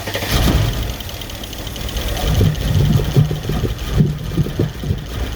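A 2012 Mercedes CLS 63 with 137,000 km and one dead fuel pump on the driver's side cranks with a low, uneven rumble of pulses, heard alone and fairly close.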